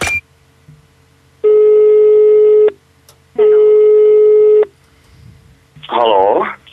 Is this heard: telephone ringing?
yes